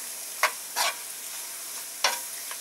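Mushrooms and sour cream sizzling in a hot frying pan, with a few brief scraping stirs over a steady soft hiss and no voices.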